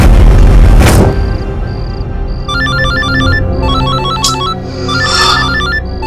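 A phone rings late at night in a dramatic crime-show scene with a repeating electronic ringtone pattern, loud and close, following a deep boom at the start amid music.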